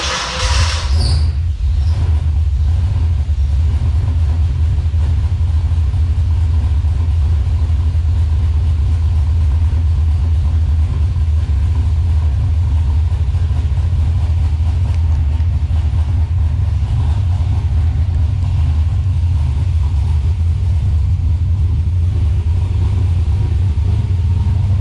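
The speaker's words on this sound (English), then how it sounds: "Let's go ahead and try to start the car up." A car fitted with 80-pound Siemens fuel injectors starts, then settles into a loud, steady, low engine rumble that runs unbroken for the rest of the clip, with no talk.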